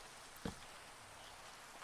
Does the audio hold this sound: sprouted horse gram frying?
no